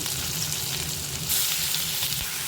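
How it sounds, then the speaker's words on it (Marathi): Marinated paneer frying in oil in a kadhai, a steady close sizzle with occasional stirring scrapes and a brief louder hiss midway. "आता त्याला थोडं आपल्याला मिक्स करून गरम करून घ्यायचं आहे थोडं फ्राय करायचं आहे"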